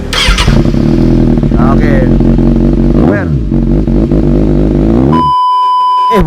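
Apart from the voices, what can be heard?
Yamaha NMAX 155 with Tridente 3-sound exhaust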